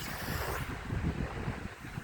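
A strong, unusually forceful east-northeast wind blows steadily, roaring and buffeting the microphone in a continuous close rush with low rumbling gusts and no voices.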